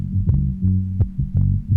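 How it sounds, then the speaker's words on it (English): A heavy, distorted synth sample from an MPC sampler with analog filter throbs in a low, buzzing pulse, repeating in a steady rhythm with short bright clicks on each beat. "It's got a little distortion on it."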